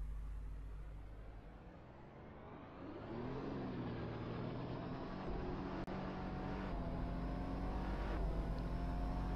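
A Ferrari SF-15T hybrid Formula 1 car at a race start at full throttle. Its engine is a steady mid-range drone that rises in pitch as the revs climb, with a brief sharp click partway through and no talk.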